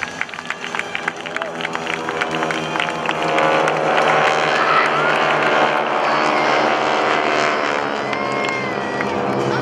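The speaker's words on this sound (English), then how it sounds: "Continue to watch the aircraft overhead as they rejoin and then reverse to give you one more exciting photo opportunity across Show Center." GEICO Skytypers propeller aircraft pass overhead at an airshow at a Rhode Island Air National Guard open house, a loud, steady engine roar that swells after the first seconds and holds, with crowd noise and a faint announcer voice beneath.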